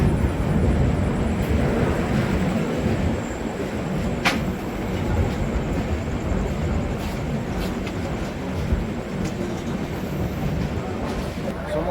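The Amritsar Mail passenger train rolls into Patna Junction platform at night, a loud, steady rumble and clatter of wheels lasting throughout, with a brief sharp metallic clank partway through.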